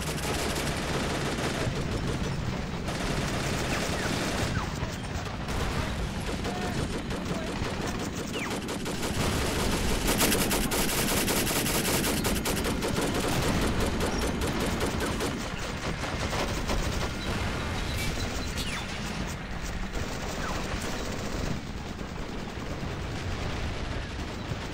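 Machine guns in Men of War: Assault Squad 2, set up by Japanese reinforcements at South Peleliu Airfield, rattle in dense, unbroken bursts mixed with heavier battlefield fire, loud and continuous throughout.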